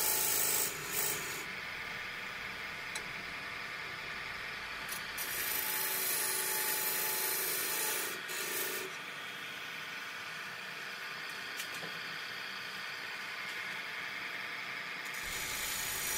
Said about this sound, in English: using a skew, well it's actually a negative rake scraper, just to form a couple of grooves on each side of that shoulder